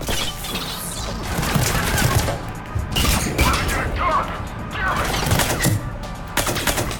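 Rapid gunfire crackles through Mass Effect 3 combat, dense bursts of shots and impacts layered with game effects over several seconds, with a player talking across the action.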